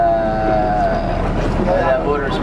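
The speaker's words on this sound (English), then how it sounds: "We've been on this boat for kind of a while." A boat travels across open water near Majuro, with a continuous engine drone, wind buffeting the microphone and rushing water, loud and close, while a voice is heard faintly underneath.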